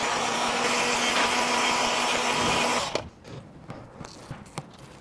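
Heat gun blowing hot air onto a Sea-Doo LinQ base, a steady loud whooshing hum for about three seconds that cuts off abruptly, followed by a few faint clicks and handling knocks.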